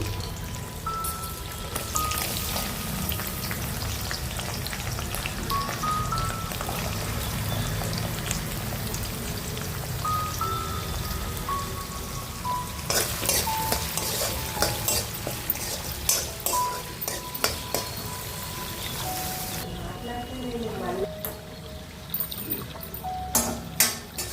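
Tempering spices, garlic and dried red chilies fry in hot oil, a continuous close sputtering sizzle like rain on a surface, with stirring scrapes and louder crackles near the end and no talking.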